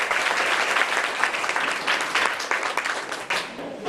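An audience at a Mura College campus radio session applauds a song by college students, with dense, steady clapping throughout that dips slightly toward the end.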